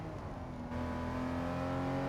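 A Chevrolet C8 Corvette engine in Gran Turismo 7 revs up, a loud, steady, rising mechanical drone that swells after a brief lighter opening and holds strongly to the end.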